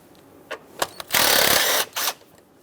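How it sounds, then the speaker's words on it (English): Close ratcheting on a 10mm bolt at a 2003-2009 Dodge Ram 2500 5.7L V8 intake: a few short clicks, then a longer burst of rapid ratchet whirring, followed by one more brief burst. "we have a 10mm headed bolt right next to it that we have to remove"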